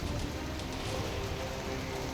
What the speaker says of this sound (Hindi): तस्वीरें हम दिखा रहे हैं आपको कैसे इस बारिश पे मुंबई पानी पानी